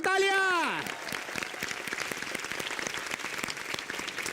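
An audience on a Hindi television poetry show breaks into applause, dense crackling clapping that follows a brief musical sting and carries on steadily to the end.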